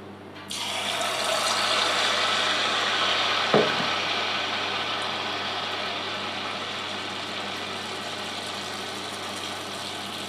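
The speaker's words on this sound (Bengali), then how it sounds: "আমি সাদা তেলেই ভাজছি।" Thick banana malpua batter fries in hot white oil in a kadai, starting with a sudden hiss that settles into a steady, even sizzle lasting several seconds.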